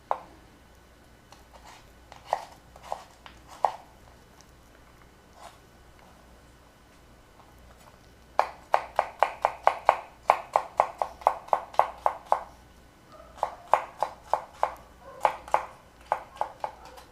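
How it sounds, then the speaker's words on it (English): Knife dicing pumpkin on a cutting board for creamy pumpkin soup: sparse, evenly spaced chops at first, then a quick steady run of sharp close taps, a short pause, and a final burst of cuts. "You can cut in medium size or large dices if you want"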